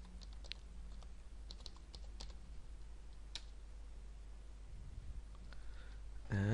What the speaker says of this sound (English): I'm gonna type my password now.